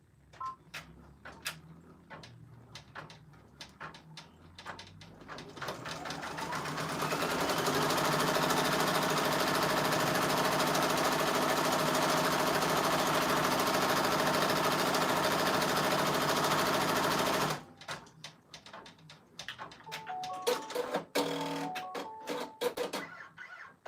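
A machine embroidery unit sews an appliqué placement stitch on a Christmas shirt, a loud steady mechanical whir and rapid needle chatter lasting about ten seconds, with clicks and handling clatter before it starts and after it stops.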